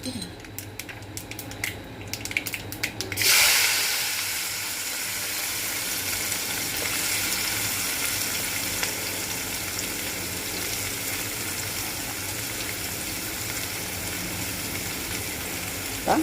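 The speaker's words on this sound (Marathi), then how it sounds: "आता परतून घेतली थोडी।" Capsicum sautéing in a pan with turmeric and asafoetida gives a steady, close sizzle that hisses on without a break after a brief clattering start.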